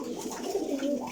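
Parwazi pigeons cooing steadily up close, a soft continuous throaty burble alone without talk.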